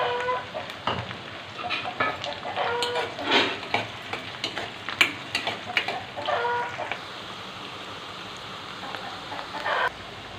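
Green chillies sizzling in a hot pan for a prawn tomato masala curry, a faint steady frying hiss broken by scattered crackles and spoon scrapes, louder at first and then settling.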